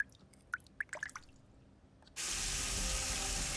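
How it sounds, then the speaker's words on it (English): Water pours from the ceiling in a video game: scattered drips first, then a sudden loud, steady rush of splashing water that continues to the end. "Water's coming from the ceiling!"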